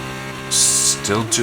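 Formula 2 race car from the F1 23 game at Bahrain, powering out of a corner: a steady, loud engine drone with layered harmonics, rising into a brighter, harsher burst midway before the pitch shifts down.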